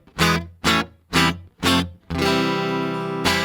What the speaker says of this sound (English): That's the sound of just a pure electric guitar.